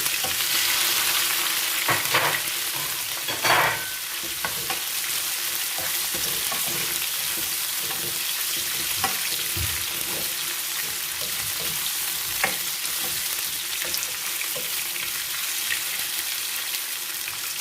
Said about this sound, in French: Nous allons faire revenir le poivron dans l'huile.